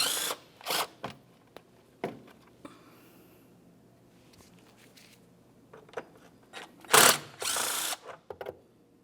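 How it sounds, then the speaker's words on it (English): Several short bursts of a socket ratchet clicking as a 10mm socket loosens engine cover bolts on a Nissan Titan, separated by pauses and small tool handling noises, close by with no speech. "we'll use a 10mm socket along these two bolts"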